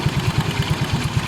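A motorcycle engine idles after a pulley repair, running smooth and quiet with a steady, rapid low putter close by.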